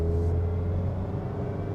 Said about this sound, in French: Celui-là, ça sonne 4 cylindres japonais.